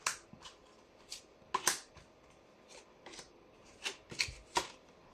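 Tarot cards being laid out and handled during a reading, giving a series of soft, papery slaps and flicks at an irregular pace, close and quiet, with no talking.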